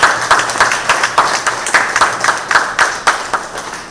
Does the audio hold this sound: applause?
yes